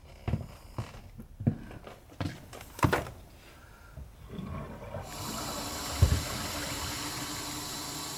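A toilet is flushed after a repair for a leak at the floor, a rising rush of water that starts midway and carries on steadily to the end, preceded by scattered knocks and handling noises.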